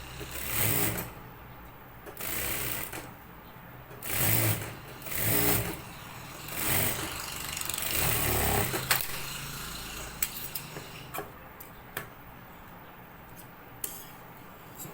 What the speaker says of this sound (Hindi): अब इसके ऊपर मैं सिलाई लगा लूँगी।